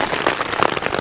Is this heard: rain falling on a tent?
yes